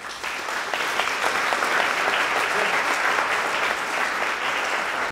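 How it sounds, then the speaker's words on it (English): A concert audience at a jazz event applauds loudly and steadily, the dense clapping holding at full strength for several seconds before cutting off abruptly, with no talking over it. "Please, applaud him."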